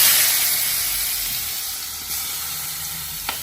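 Chopped onion sizzles loudly in hot oil already seasoned with cumin seeds and asafoetida, a steady close-up frying hiss for a Gujarati spiny gourd curry, with a faint clink near the end.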